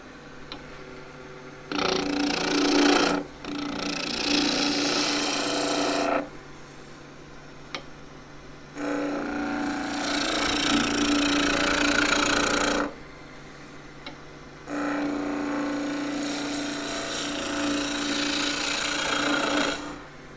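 Wood lathe with a 1 inch (25 mm) skew chisel cutting a skittle: three bursts of shaving, scraping sound, each a few seconds long, separated by quieter pauses with the lathe still humming, close and loud.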